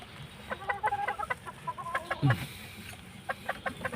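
A white Kelso chicken clucks in a run of short, repeated calls, with a louder squawk partway through, heard fairly close with faint farmyard background.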